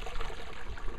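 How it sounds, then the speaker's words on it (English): Clean creek water flows and trickles steadily, a close, continuous rushing wash lasting about a second with no voices. "I'm right here by a creek, and it is really a clean creek"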